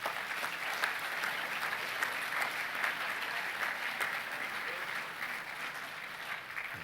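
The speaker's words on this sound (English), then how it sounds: "If you could applaud these gentlemen, please." At a school assembly, an audience gives sustained applause, dense and even clapping that carries on steadily throughout with no voices above it.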